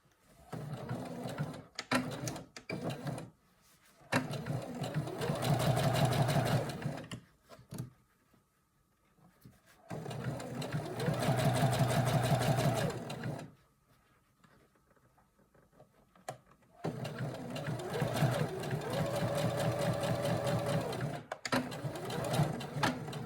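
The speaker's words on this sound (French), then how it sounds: "endroit contre endroit, les deux côtés rejoints, nous faisons une couture." A sewing machine stitching a seam on fabric for a scrunchie, with three long steady whirring runs separated by quiet pauses and light handling sounds, close and loud.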